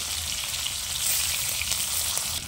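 Live fish frying in oil in a wok, a steady, close, hissing sizzle with no talk.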